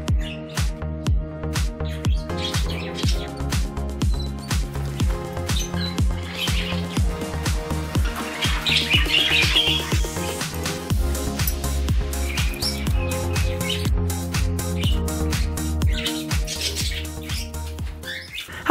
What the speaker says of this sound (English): this is Tinkerbell, my Rosie Burke parakeet